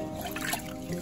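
Tap water trickles and splashes softly over white rice as it is rinsed, a quiet steady running stream close by.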